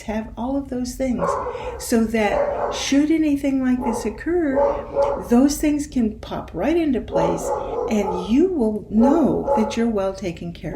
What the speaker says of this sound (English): Sorry if you can hear the corgi barking.